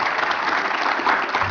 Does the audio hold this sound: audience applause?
yes